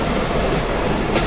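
Local passenger train halted at a station on the northern Bangladesh line toward Panchagarh, a loud steady rail rumble and clatter filling the short moment with no voices.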